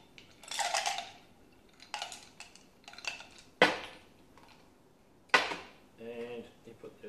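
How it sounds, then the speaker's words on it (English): Ice cubes are dropped into a cocktail shaker for a 007 martini, giving several sharp clinking, rattling bursts spaced over a few seconds. They are close and fairly loud, with quiet pauses between. "You just add some ice, which I've pre-prepared."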